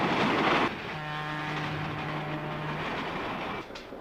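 A Silverliner commuter coach on the Pennsylvania Railroad draws into Glenolden station on the southbound track. Close, steady rolling rumble and rail noise, with a sustained whining tone in the middle as it slows, then a softer tail.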